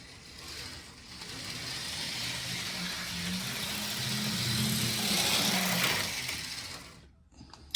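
A 1976 Lionel Burlington Northern model train runs slowly on its track, giving off a continuous, fairly quiet motor whir and rolling rumble that swells slightly, then cuts off near the end.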